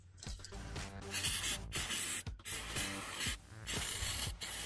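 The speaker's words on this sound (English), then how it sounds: "So the brake cleaner goes on, and it coats the diesel fuel." Brake cleaner sprays in short bursts onto diesel-soaked engine parts of a 1997 Toyota HiAce 4WD Super Custom, close hissing squirts separated by brief pauses, with faint rubbing between them.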